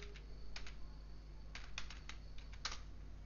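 Faint clicking keystrokes on a computer keyboard in short irregular bursts over a low steady background hum.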